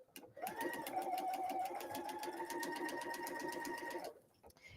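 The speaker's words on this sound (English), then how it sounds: "we're going to go to the machine and we're going to stitch the next seam" A sewing machine runs steadily for about four seconds while stitching a seam on an insulated tea cozy, its rapid even needle rhythm close and clear, then stops abruptly.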